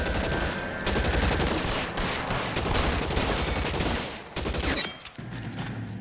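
Heavy, nearly continuous gunfire in L.A. Noire, a loud close barrage of overlapping shots that thins out near the end, with no speech.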